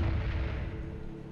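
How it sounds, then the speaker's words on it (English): Frag grenade blast in the video game Spec Ops Stealth Patrol, a dull low boom whose rumble rolls on and slowly fades over a little more than a second, with no voices over it. "That's a frag."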